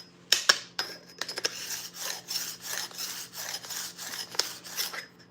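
Hand file dressing a chainsaw bar, a series of close, rasping strokes in an uneven rhythm with a few sharp metallic clicks near the start.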